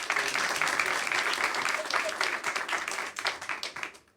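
An audience breaks into dense, sustained applause that stays strong before thinning out and fading at the end.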